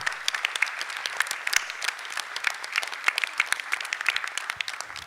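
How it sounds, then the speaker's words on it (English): A crowd at a graduation ceremony gives steady, moderately loud applause for the graduating class, a continuous patter of many hands clapping with no voices over it. "A big round of applause for the class of 2025."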